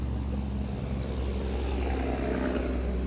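A Lexus car drives past on a town street, its loud engine a steady low rumble that holds evenly through the whole moment.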